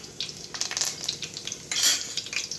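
Garlic and cumin fry in hot oil for a cabbage chana dal curry, giving a close crackling sizzle with a few stirring scrapes and brief louder bursts, and no one speaking.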